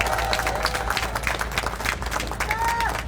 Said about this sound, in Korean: 여러분 두 분께 큰 격려의 박수 부탁드리겠습니다